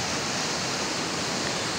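Rushing water from a swollen mountain stream during heavy rain, a loud, continuous broadband roar with no breaks and no voices.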